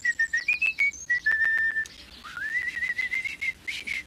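A person whistles a bright, wavering tune in short repeated phrases with sliding pitch, close and fairly loud, with no talking over it.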